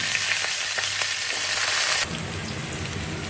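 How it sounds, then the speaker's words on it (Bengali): Potatoes frying in a pan, a bright continuous sizzle that drops suddenly to a quieter, softer crackle midway, with no voices. "আলুগুলাকে ভেজে নেব।"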